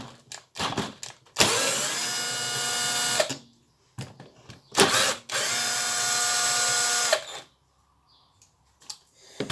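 A cordless screwdriver drives screws on a Stihl FS90 4-Mix trimmer, in two long steady whirring runs, each about two seconds, close and loud, framed by short clicks and handling knocks.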